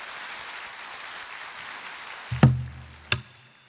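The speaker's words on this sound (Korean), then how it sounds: "큰 박수 한번 보내주시면 시작하겠습니다" Applause from a church congregation fills the room at a steady level, then fades, followed by two sharp knocks.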